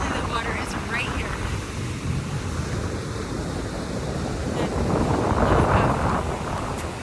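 Wind gusts buffet a microphone right at the water's edge, blending with the wash of nearby waves in a steady, roaring rush that swells toward the end.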